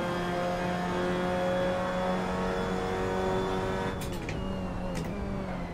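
Race car engine in the sim racing game Assetto Corsa, a loud steady drone with shifting harmonic pitch throughout, punctuated by brief gear-shift or curb-strike bursts near the end, with no voices.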